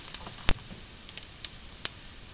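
Diced carrots and other vegetables for a bolognese sauce sauté in a pan, a steady close sizzle broken by a few sharp clicks and taps of a utensil.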